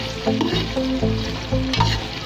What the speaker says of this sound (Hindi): ये थोड़ा सा हमारा ऑयल गर्म हो जाता है तो इसमें मैं प्याज अपनी शामिल करती हूँ।